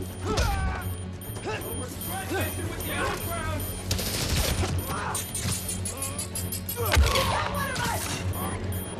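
Enemy gunfire in Spider-Man: Miles Morales, bursts of rapid shots and mechanical clatter mixed with game effects and voices, fairly loud and continuous across several seconds.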